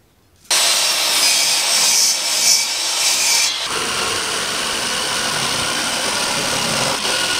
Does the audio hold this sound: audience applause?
no